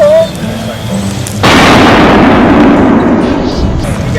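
A shotgun is fired at a clay target during outdoor field training. The single loud blast comes about a second and a half in and is followed by a long, broad rumbling decay. Quieter outdoor background precedes the shot.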